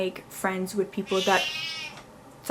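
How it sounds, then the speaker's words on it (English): A pet cat meows a few times indoors, its cries woven in and out of a person's nearby speech. "that was my cat"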